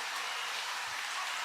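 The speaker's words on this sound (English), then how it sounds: "The rain has really started coming down hard" Heavy rain pouring down during an outdoor coach tour, a dense, steady hiss of drops on surfaces that stays loud and continuous throughout, with no voices.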